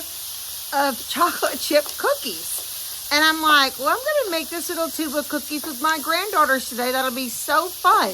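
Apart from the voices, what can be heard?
onions sizzling on a grill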